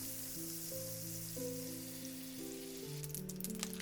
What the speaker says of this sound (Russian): Разогрейте сковородку с оливковым маслом и растопите кусочек сливочного масла для вкуса и сочности.